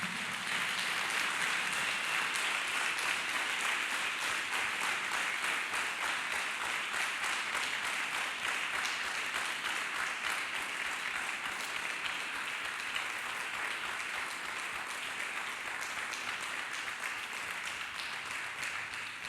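A church congregation claps hands in praise with dense, continuous applause that holds steady and loud for nearly twenty seconds.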